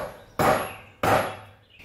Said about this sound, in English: I'm just using an old drill bit that I sharpened real good as a center punch